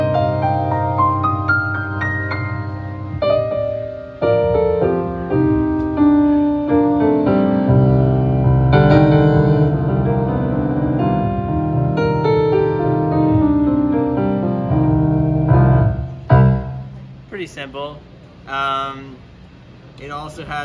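A Nord Stage 3 keyboard plays an acoustic piano sound in rich flowing chords and melody, loud and close, and a voice comes in near the end.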